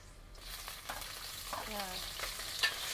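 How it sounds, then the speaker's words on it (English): Pork goes into a pan of frying garlic at a Cambodian food stall, giving a soft steady sizzle with a few stirring scrapes and clinks, fairly close, without talk. "when the garlic already like this, we start to put the pork"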